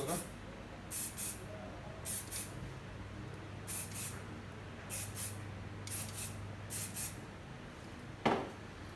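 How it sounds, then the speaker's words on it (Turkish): Repeated short bursts of hair spray hiss in quick pairs, then a sharper final spray, with a low steady hum underneath, as spray is applied to hair for a bun. "Spreyimizi sıkıyoruz yerine doğru"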